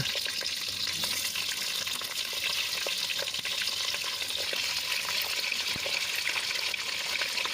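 Country chicken pieces frying in hot oil with mustard seeds and curry leaves, giving a steady, loud sizzle and crackle with occasional stirring scrapes throughout and no voices.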